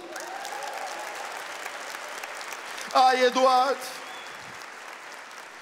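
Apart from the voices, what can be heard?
audience applause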